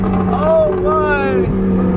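A cluster of Ferraris and Lamborghinis on a Dubai road gives off a steady, close engine drone that runs under continuous excited talk, with no sharp revs standing out.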